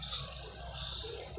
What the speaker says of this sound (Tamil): ஒரு 2 கிளாஸ் அளவுக்கு தண்ணி ஊற்றிக்கிடுறேன் ஃப்ரெண்ட்ஸ்